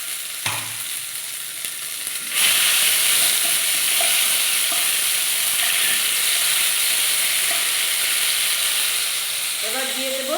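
Asafoetida, ginger and cumin paste frying in hot oil for a dal paratha, a steady loud sizzle that swells after a dropped-in addition, with faint stirring clinks near the end.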